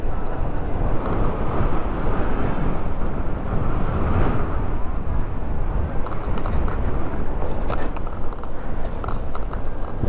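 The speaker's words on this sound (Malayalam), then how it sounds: "നല്ല കാറ്റുണ്ട്" Constant loud wind roar buffets the microphone on a moving Pure EV Etrist electric bike, a dense rushing noise that never lets up.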